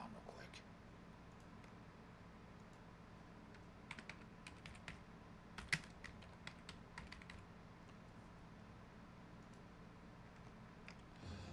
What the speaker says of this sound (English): I gotta type something down real quick.